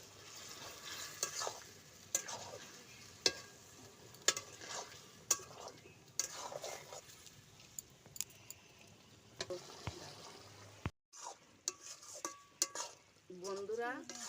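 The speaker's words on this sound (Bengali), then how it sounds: "আমি এবার ভেজে রাখা ডিমগুলো দিয়ে দেবো" Fried eggs are stirred into kochur loti curry in a hot pan. A spoon scrapes and knocks at intervals over a soft sizzle, then a few clinks of metal and a short burst of frying near the end.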